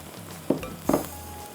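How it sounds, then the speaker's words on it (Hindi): Sliced tomatoes frying in a pan for a chicken kofta curry, a soft steady sizzle broken by two louder stirring scrapes of a utensil against the pan. "जब तक टमाटर को मैं थोड़ी सी देर भून रही हूँ"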